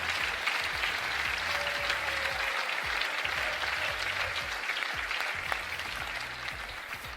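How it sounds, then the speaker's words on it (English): A theatre audience at a magic show gives a volunteer a big round of applause, a loud, sustained roar of clapping that fades slightly toward the end. "Give him a big round of applause."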